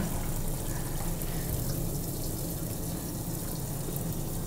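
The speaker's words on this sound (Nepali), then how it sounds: "यसको माथि हामीले पानी हाल्छौँ जति कसौडीमा चाहिँ ऊ लाग्छ" Water is poured into a cooking pot of a traditional Dashain dish, a steady close rushing splash that holds evenly throughout with no talk.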